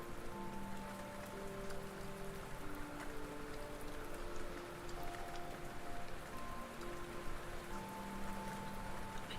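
Gentle rain falls continuously on a surface, captured close and even by a binaural 3Dio microphone, with a dense patter of drops and soft sustained tones underneath.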